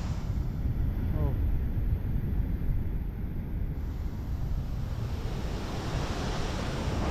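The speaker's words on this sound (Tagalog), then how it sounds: "Ang lakas ng alon mga kadalos" Strong ocean waves crash and surge continuously at the Pacifica pier, a loud, steady wash of surf with wind noise buffeting the microphone throughout.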